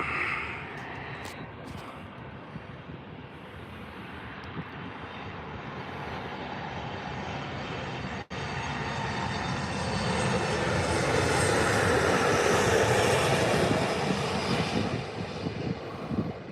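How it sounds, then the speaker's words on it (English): An airplane engine roars in a steady, broad rush that swells louder as the aircraft comes in to land at Lanzarote Airport, heard from a distance with some wind noise. "That was quite a buttery smooth landing"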